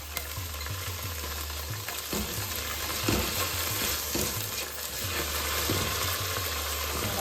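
Soaked chana dal, a quarter cup, goes into a hot pan with curry leaves and fries with a steady, close, broadband sizzle and stirring, holding at an even level throughout with no voices.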